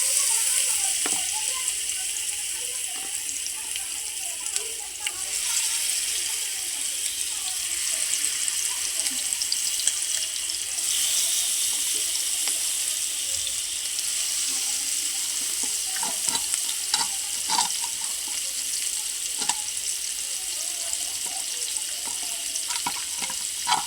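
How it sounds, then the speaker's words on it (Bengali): Spice-coated hilsa fish pieces fry in a pan, making a continuous close sizzle with occasional spatula knocks and shifts in intensity, and a few quieter crackles later on. "এখন মাছগুলি ভাজিয়ে নিব।"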